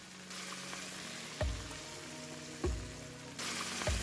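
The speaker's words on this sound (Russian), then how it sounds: "чтобы кусочки равномерно обжаривались в этой карамели из пива" Pieces of meat fry in a beer caramel, making a constant close sizzle. Three dull knocks from turning or stirring break it at roughly even intervals.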